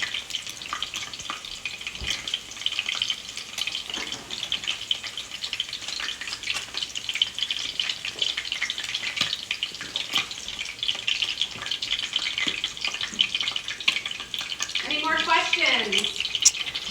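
Meatballs made with beef and eggs fry in a pan with a soft, steady sizzle. A faucet runs briefly as hands are washed, and a voice speaks over the cooking near the end.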